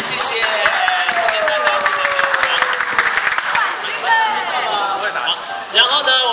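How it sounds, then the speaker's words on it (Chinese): An audience at an outdoor ball game gathering claps together: a dense, continuous patter of many hands at moderate loudness, mixed with voices speaking over it. "我们掌声鼓励"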